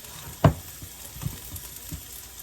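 Onions fry in a pan for a budget weeknight dinner: one sharp clatter up front, then a soft, low sizzle with a few faint stirring taps.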